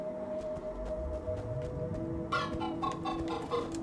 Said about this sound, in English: Chickens. How's it going, chickens?